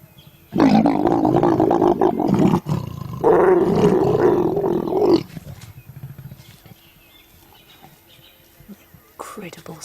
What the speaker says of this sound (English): Incredible sound effects that accompany a leopard mating